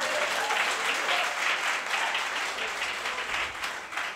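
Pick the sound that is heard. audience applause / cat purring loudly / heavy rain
audience applause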